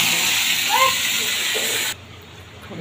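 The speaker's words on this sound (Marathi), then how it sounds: "आता आपण फोडणी देणार आहोत" Mustard and cumin seeds sizzle in hot oil for a Marathi tempering, a steady close broadband hiss that runs strongly for about two seconds and then cuts down abruptly to a faint low sizzle.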